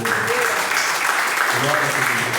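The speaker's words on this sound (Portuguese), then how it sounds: "batendo uma linda salva de palmas para Jesus" Church congregation applauding during a worship service, a steady, even wash of many hands clapping together, with voices heard over the clapping.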